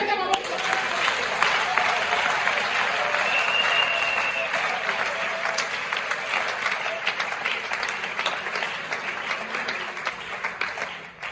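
A church congregation at a Sunday service applauds in a loud, continuous wash of clapping that lasts many seconds and tapers off near the end, with voices mixed into the crowd noise.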